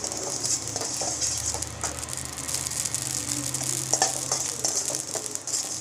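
Mustard and fenugreek seeds frying in hot oil for tomato chutney, a continuous bright sizzle with light crackling pops and faint stirring, close and unbroken by talk.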